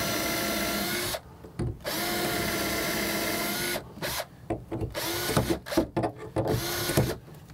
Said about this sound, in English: I'm going to pre-drill this